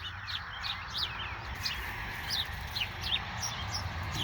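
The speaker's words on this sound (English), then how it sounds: "well, the birds are fighting." Birds squabble in a garden in spring, giving a run of sharp, repeated chirps and clucking calls close by over a steady outdoor background.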